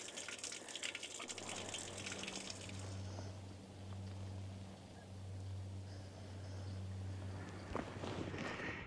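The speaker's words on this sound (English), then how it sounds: "This is a totally new fountain." Water pouring and splashing steadily from a new fountain near Kleine Scheidegg in Switzerland's Jungfrau region, with a low humming drone underneath and a few faint knocks, fairly quiet overall.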